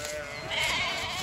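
Sheep bleating during a flock move onto perennial pasture, a wavering harmonic bleat over steady outdoor background noise, no talking.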